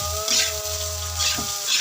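Rice sautéed in leftover oil from frying dried fish, a steady close sizzle with soft stirring scrapes and a low hum running beneath.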